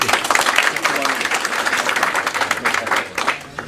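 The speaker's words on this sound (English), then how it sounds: "Let us give a big round of applause to Mr. Zakir Hossain first." An audience at a gathering bursts into brisk, close applause that holds steady for a few seconds, then tapers off as a speaker's voice begins to come through.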